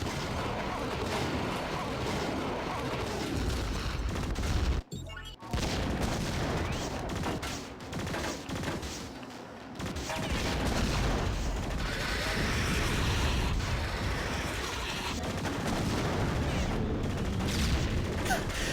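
Explosions and gunfire from the video game Blowout, loud and close, with rapid bursts, booms and steady crackling fire through nearly the whole stretch, broken by two brief pauses.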